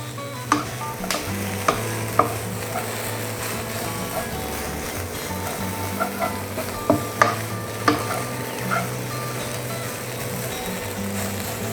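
A dried, crushed beef mixture with curry leaves and black pepper powder is stirred in a pan, giving scattered scraping clicks and a faint sizzle over a constant low hum.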